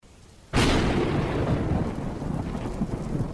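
A sudden close crack of thunder in a cartoon storm rolls into a long, heavy rumble over steady falling rain, loud and with no voices.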